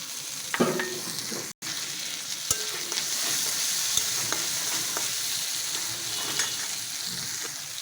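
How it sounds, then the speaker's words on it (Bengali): Ginger-garlic paste and tomato fry in a pan with a steady, fairly loud sizzle throughout, broken by occasional scrapes and taps of a stirring spoon and one sharp momentary drop-out. "অনেকটা লাল হয়ে এসেছে, এবার দিয়ে দেবো আদা রসুন বাটা। এটা একটু ভেজে এবার দিয়ে দিচ্ছি টমেটো।"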